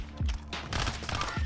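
Sniper rifle fire and other gunfire in the video game Call of Duty: Warzone, with loud broadband shots around the middle of the clip, repeated low booming thumps and a brief voice near the start.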